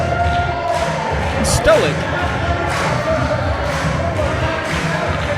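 Crowd at an indie wrestling show roaring and cheering steadily across the clip, a dense wall of noise with a commentator talking over it.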